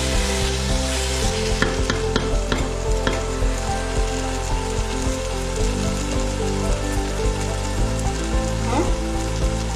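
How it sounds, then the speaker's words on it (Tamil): Seeraga samba rice grains rattle and scrape in a hot pot as they are sautéed and stirred for mutton biryani, with a steady sizzling hiss and scattered clicks of the spoon. "அரிசி கொஞ்சம் வதக்கியாச்சு"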